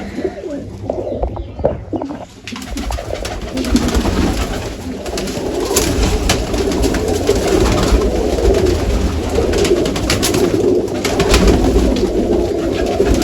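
A flock of pigeons coos steadily and close by, soft at first and then growing into a dense, layered chorus that runs on to the end.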